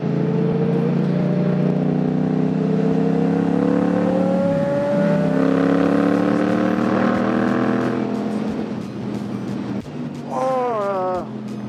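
A Porsche GT3 engine revs nearby, its pitch climbing steadily through several seconds under a constant rush of wind, then easing off before a short, sharp rev near the end.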